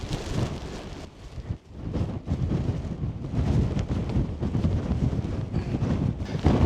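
Strong gusty wind buffets the microphone outdoors during a storm, a loud continuous rushing roar that surges and dips without pause.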